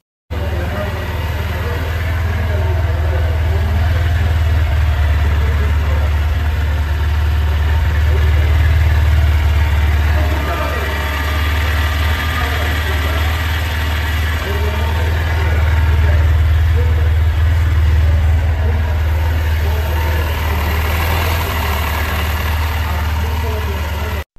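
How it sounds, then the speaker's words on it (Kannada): A Honda SP 125 motorcycle engine idles in a steady low rumble from the exhaust throughout, close and unchanging, with no clear revving. "ಇದು ಒಂದು ಬೈಕ್ನ ಎಕ್ಸಾಸ್ಟ್ ನೋಡ್ಕೊಂಡು ಬರೋಣ ಬನ್ನಿ"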